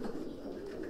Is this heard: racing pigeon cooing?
yes